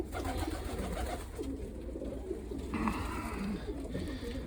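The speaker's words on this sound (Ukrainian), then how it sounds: "Це вже вони вже літають ці голуби повним ходом." Pigeons cooing softly amid steady outdoor background noise, with a brief flutter or rustle partway through.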